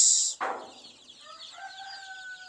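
Chicks and chickens in a poultry pen give a loud high peep followed by softer overlapping chirps and clucks, close by with no talking.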